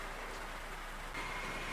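Steady rain falls in a continuous even hiss, fairly close and moderately loud, with a slight rise in intensity near the end; no voices are heard.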